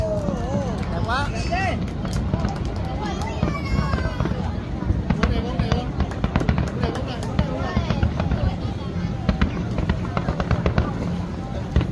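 Fireworks at the Da Nang International Fireworks Festival, a dense continuous barrage of bangs, crackles and whistling rockets from a distance, with an excited crowd talking and cheering throughout.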